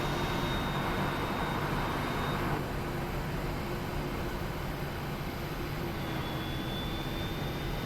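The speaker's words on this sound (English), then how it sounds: "So starting engine 1 now." Boeing 737-800 in Scandinavian Airlines livery in the Prepar3D flight simulator, a jet engine spooling up during start, heard as a steady broadband roar and hum with a faint rising whine, alone without talk.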